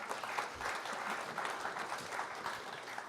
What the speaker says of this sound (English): if everyone could give a round of applause to John